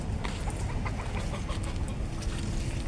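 Chickens cluck and chatter continuously at feeding time, several birds close by under a busy, steady background of fowl noises.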